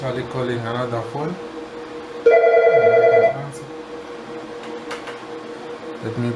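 A Mitel desk phone calling another extension gives a single clear electronic ringback tone lasting about a second, set between stretches of someone talking.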